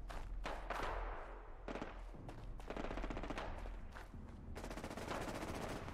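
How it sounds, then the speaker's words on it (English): Rapid bursts of automatic gunfire rattle nearly nonstop from a shootout with a robot in Fallout 4, the loud volleys broken by brief gaps and heavy thuds. "somebody's shooting it out with that robot"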